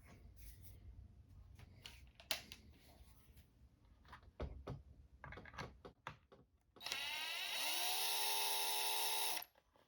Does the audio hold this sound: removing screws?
yes